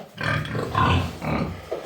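A recovering sow grunting in a series of close, fairly loud low grunts with short gaps, heard alone without talk.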